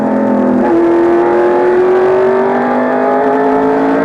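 Quaker State Buick stock car racing at North Wilkesboro, a loud steady in-car engine drone holding a rising pitch after a brief gear change, with no talk.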